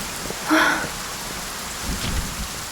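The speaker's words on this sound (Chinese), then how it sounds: "现在又下雨了" Steady rain falls outdoors as a continuous broadband hiss, with a brief louder gust of splashing near the start and a low rumble later, fairly close, and no voices.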